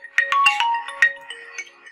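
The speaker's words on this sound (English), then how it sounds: "See, even if it is in silent mode, it will be ringing." A bright electronic ringtone from an Android phone's Find My Mobile feature plays a quick melodic phrase of tones, loud and close, with no voices.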